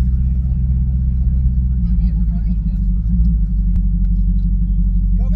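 A twin-turbo 2024 Corvette E-Ray sits at a track start line with a deep, steady engine rumble close by, and people talk over it throughout.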